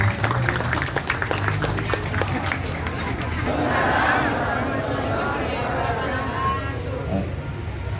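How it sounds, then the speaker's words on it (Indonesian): Crowd clapping at an election poll-worker swearing-in ceremony, a dense burst of applause early that thins into murmuring crowd noise and chatter, fairly loud and close. "Beri tepuk tangan untuk Bapak Ibu sekalian."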